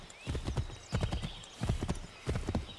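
Horse hooves clip-clop in the Assassin's Creed 3 Remastered game, four rhythmic bursts of galloping hoofbeats close and clear, with a faint whinny-like tone in the background.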